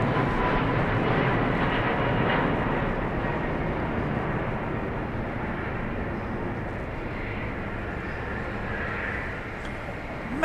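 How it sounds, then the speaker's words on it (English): Southwest Airlines Boeing 737 Max 8 taking off from Dallas Love Field bound for Houston, a loud, sustained jet engine roar that holds steady and dominates throughout. "Max 8 off to Houston."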